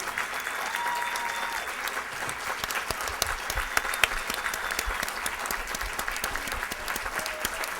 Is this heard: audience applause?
yes